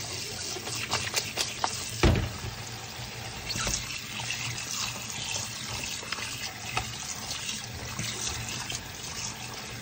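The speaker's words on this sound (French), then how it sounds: "Je les rince dans la passoire" Sardines rinsed in a colander under a running kitchen tap, a steady close-up wash of water with splashes and clatter as the fish are moved about, with no talk.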